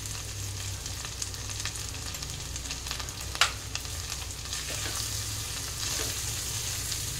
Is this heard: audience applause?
no